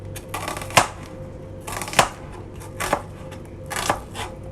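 A knife slices through an onion on a board for a tomato and egg dish: four crisp, evenly spaced chops about a second apart, close and distinct over a low steady hum.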